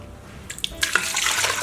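Water pours into the inner pot of an Instant Pot pressure cooker, a close splashing gush that starts after a few faint drips and builds into a steady stream.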